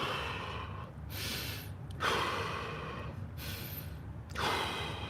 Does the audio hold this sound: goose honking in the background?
no